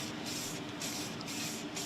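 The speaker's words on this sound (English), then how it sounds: "I'm actually going to spray them with this dark green spray" Aerosol can of dark green spray paint hissing onto upholstery studs in a repair workshop, a continuous loud spray with brief pauses between bursts, no talking.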